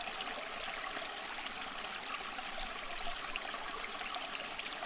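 Steady flowing forest water runs in a continuous, even wash, like a stream trickling over rocks, holding at moderate loudness with no voices and no breaks.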